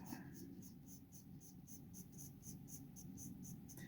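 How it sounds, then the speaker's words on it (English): A pencil sketching a mushroom cap on paper: steady, soft scratchy strokes in a quick repeated back-and-forth rhythm, close and quiet, with no talking. "what I'm doing is taking my pencil and I'm measuring roughly where the edges of that mushroom cap are"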